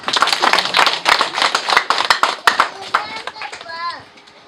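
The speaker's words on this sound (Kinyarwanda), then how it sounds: "reka mumumere amashyi" Applause at a graduation celebration: a scattered burst of hand claps from a small group, quick and uneven, with voices talking over it before the clapping thins out near the end.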